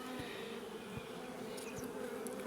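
Honey bees drone steadily inside an open hive during an inspection, a low continuous hum filling the air with a few brief louder buzzes passing close by.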